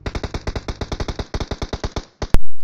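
Gunfire from the mobile battle royale game PUBG Mobile during a final squad kill: a loud, fast burst of about twenty evenly spaced automatic shots, then a short gap and one sharp final blast.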